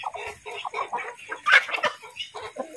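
Asil chickens, a rooster and hens, clucking close by in a series of short, irregular calls, with one louder squawk partway through.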